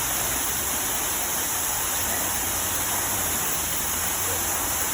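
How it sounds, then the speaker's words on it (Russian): A steady, dense rush of falling water roars without pause, a loud broad hiss from an artificial waterfall in central Alanya, Turkey, heard up close. "Вот такой водопад есть в центре Аланьи."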